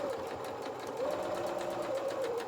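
A sewing machine runs continuously, stitching fabric for a toy donkey's body and limbs, a close, rapid, even rattle with a faint motor whine.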